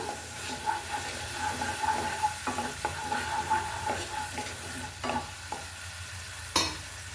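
Spice masala with salt and turmeric being sautéed for an eggplant dish: a steady soft sizzle under repeated scraping stirs of a spatula against the pan.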